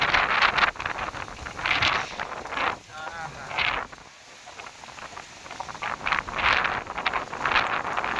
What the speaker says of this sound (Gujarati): ફૂલ પવન છે ભાઈ અત્યારે હાલ.